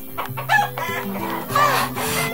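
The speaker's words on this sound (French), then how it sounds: "Excitée, Zoé courut à travers le poulailler pour parler à la poule Paulette" A hen named Paulette clucks in a farm henhouse, giving a few short, close, fairly loud bursts of clucking with rooster-like crowing tones.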